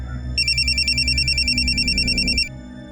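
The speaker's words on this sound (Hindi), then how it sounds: "सर, कोमल का फोन था" A telephone rings indoors at a police station, a repeating electronic bell trill loud and near for about two seconds over a low background hum, no talk.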